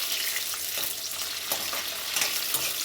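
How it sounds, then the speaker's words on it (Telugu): Capsicum fries in a pan with a steady, close sizzle, broken by a few soft stirring scrapes, with no voices present. "ఇందులో ముందుగా మనం క్యాప్సికమ్ వేసి ఫ్రై చేసి పెట్టుకుందాం సైడ్కి."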